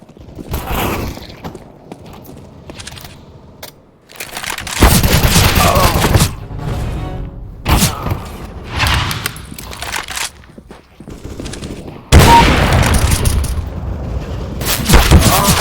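Rapid gunfire rings out in Counter-Strike: Global Offensive team deathmatch on the Dust 2 map, with loud bursts of automatic shooting, sharp single shots and game effects crowding one another at close range, broken by short quiet gaps.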